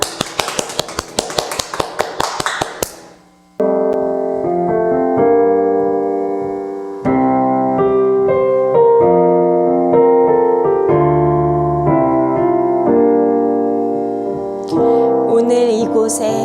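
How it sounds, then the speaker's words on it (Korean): A children's church congregation at a Sunday worship service claps in rhythmic, even beats for about three seconds before sustained worship music with keyboard chords takes over. "우리 모두 주님께 영광의 박수 올려드립시다."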